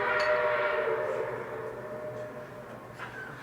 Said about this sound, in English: What's that train?